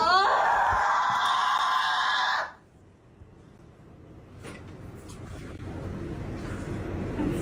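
A woman in labor at a hospital screams in agony, a loud, sustained wail lasting a couple of seconds before it cuts off abruptly, leaving a quieter stretch of room noise.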